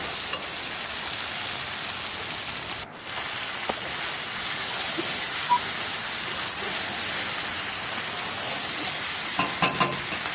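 Young jackfruit sautéed with chui jhal and eggs sizzles in a pan, a steady close frying hiss with a few small clicks and stirring knocks throughout.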